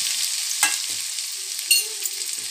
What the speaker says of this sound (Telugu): ఆయిల్ వేడెక్కాక నూనె వేడెక్కాక బెండకాయలను ఇందులో వేసుకొని